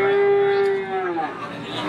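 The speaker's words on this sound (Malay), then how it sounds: "Oke, ini sapi-sapi bibitan jantan ini, teman-teman." Young bull cattle at a livestock market moo once in a long, loud, close call that slides downward, followed by quieter market background.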